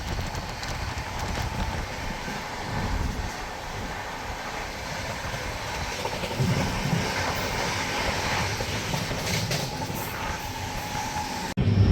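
Rajdhani Express rolling through near Vrindavan Road in the evening, a continuous loud rumble and clatter of wheels on track throughout, with wind noise and no voices.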